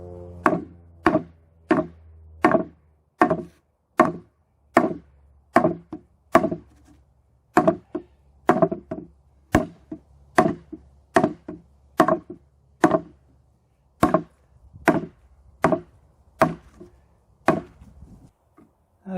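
A Cold Steel SR1 Lite knife chops through a three-quarter-inch ash branch in steady, evenly spaced blows, about twenty sharp woody thwacks, close and loud with near silence between strikes.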